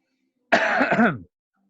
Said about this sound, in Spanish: me dio acá tos